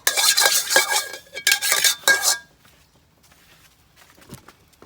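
Stir-frying instant noodles with pork, pork sausage, crab, bok choy and eringi mushrooms in a pan, with quick scraping and clinking of a utensil against the metal in a few bursts, then near silence.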